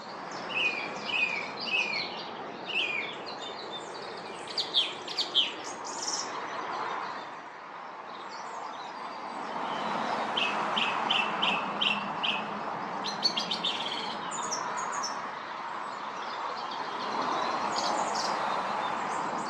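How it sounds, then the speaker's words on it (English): A song thrush sings in spring, repeating bright phrases in short bursts, other birds chirping around it, over a constant low rumble of distant traffic and a passing train. "the song thrush's song can rise above that and has to be in the top 10 of British"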